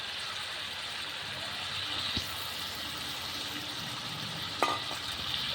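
Ground spice paste dropped into a hot frying pan with a pot of fish and greens, a low steady sizzle with a couple of brief sharp clinks, no talking.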